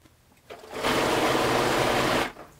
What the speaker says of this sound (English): I am going to sew a line of stitching all around the top of the neckline here